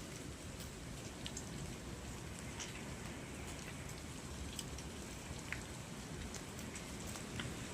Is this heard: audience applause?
no